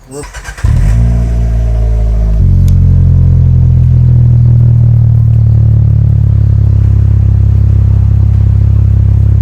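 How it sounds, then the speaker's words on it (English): A car engine starts with a brief crank, then settles into a loud, deep, steady idle with a throaty Magnaflow exhaust rumble close by. "the difference between these 2 exhaust systems and how much louder it actually is on the exterior of the car"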